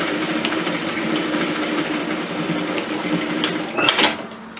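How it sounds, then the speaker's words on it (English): Sewing machine stitching rows along a messenger bag strap, a continuous close whirring stitch rhythm with a brief louder burst near the end. "run a couple of rows of stitching on top of my first stitching at both sides"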